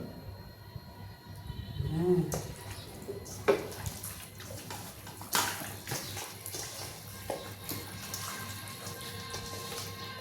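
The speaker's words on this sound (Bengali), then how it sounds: "খাঁটি সরষের তেল ঢেলে দেবো" Pure mustard oil is poured onto raw beef in a bowl, making a close, liquid trickling splash with a few louder glugs and spatters.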